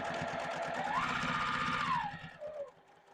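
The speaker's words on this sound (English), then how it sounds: "And I just backstitch over the straps." A sewing machine backstitches over fabric straps on a sack or fabric basket, a fast, even, motor-driven stitching rattle that whirs briefly, rises in pitch, then slows and stops, close and clear.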